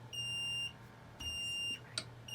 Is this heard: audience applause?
no